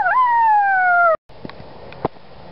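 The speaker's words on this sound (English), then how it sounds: "Heard an old dog just then." An old dog howls in one long, sliding, mournful note that drops slightly in pitch, clear and fairly close, followed by a short gap and a few faint thumps.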